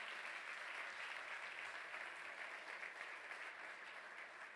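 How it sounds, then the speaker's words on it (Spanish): Steady applause from a conference audience, dense and continuous clapping throughout, with no speech over it. "Por eso pido un aplauso para todos ustedes por estar acá."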